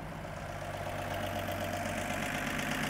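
An old Toyota Land Cruiser engine idles steadily after an electronic ignition conversion and timing adjustment, a continuous low rumble with a faint rhythmic knock, close and even throughout.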